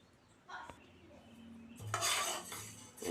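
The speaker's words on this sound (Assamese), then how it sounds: "গোটেইখিনিকে মই অকণমান সময় ভাজি ল'ম।" Spices for a red chili pickle are stirred in a pan over low heat, producing quiet metal scrapes and clinks of a spatula against the pan, with a brief burst of louder rustling near the end.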